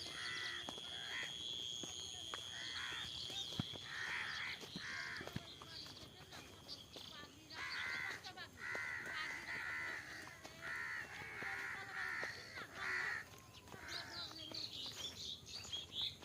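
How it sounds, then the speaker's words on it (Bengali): A large flock of crows caws loudly and repeatedly outdoors in a town, harsh overlapping calls coming in rapid bursts, with faint background activity. "প্রচণ্ড পরিমাণ কাওয়া বসে আছে"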